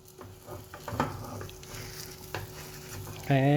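Omelette frying in palm oil in a pan, a steady soft sizzle with scraping stirs and light utensil clicks, ending in a louder burst of hissing as more egg hits the hot oil.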